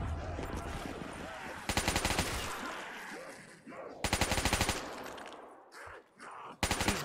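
Automatic gunfire in Black Ops III custom zombies comes in three loud, rapid bursts, separated by quieter stretches of game ambience.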